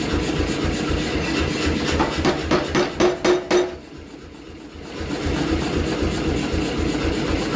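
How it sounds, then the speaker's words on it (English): A power hammer pounds a hot steel billet being forged for a San Francisco Bowie knife, giving a rapid run of heavy metallic blows over a loud, steady machine drone that briefly quiets before resuming. "It's like the power hammer is eating the metal."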